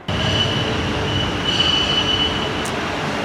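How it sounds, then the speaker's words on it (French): A Brussels metro train pulls into the station with a steady, loud rumble and a sustained high wheel squeal running throughout, plus a brief brighter screech near the end; no talking. "le métro est enfin arrivé"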